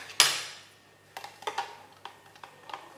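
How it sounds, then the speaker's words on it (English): A spoon stirring a blue latte in a cup: one sharp clink at the start, then a string of light, irregular taps and scrapes against the cup, close and fairly quiet. "Let's give this a stir."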